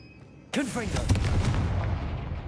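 A Confringo spell cast in a Harry Potter video game bursts into a sudden loud explosion with a sharp attack and a ringing, crackling decay that trails off over about two seconds.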